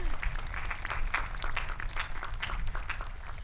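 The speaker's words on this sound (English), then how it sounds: "Let's give them a round of applause" Outdoor crowd applause at a high school graduation ceremony, a short steady patter of clapping from many hands at moderate distance with a few sharper claps standing out.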